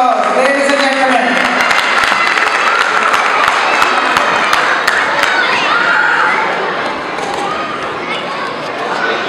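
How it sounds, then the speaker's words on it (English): An audience at the TAL Ugadi 2016 celebration breaks into a loud, sustained round of clapping and cheering with some shouts. It holds steady, then eases slightly toward the end as voices carry underneath. "Give him a big round of applause, ladies and gentlemen."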